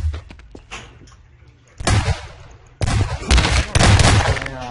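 Gunfire in Garry's Mod: a few light clicks, then bursts of loud rapid shots in several clusters, close and harsh.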